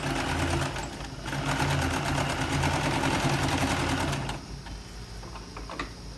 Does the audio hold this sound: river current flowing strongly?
no